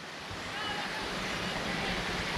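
River water rushing over limestone at Mayfield Falls in Westmoreland, Jamaica, a steady broadband roar of flowing water filling the whole stretch, close and even.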